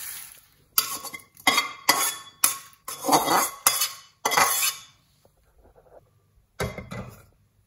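Metal kitchenware clanks and scrapes near a stove as a kadai pan is set down, a series of sharp loud knocks and rattles with brief pauses, ending in one last clatter.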